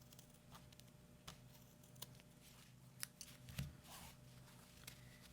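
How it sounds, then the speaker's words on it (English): Scissors snip several times across the diagonal of sewn fabric corners on a small beginner pen-holder project, sharp close cuts spaced irregularly over a quiet room hum. "So you clip them going across the diagonal, staying away from your stitching"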